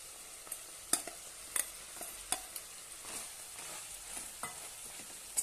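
A spoon stirs boiled black chickpeas into cooked rice for kala chana pulao, making soft irregular scrapes and sharp clicks against the pot over a faint background sizzle. No voices.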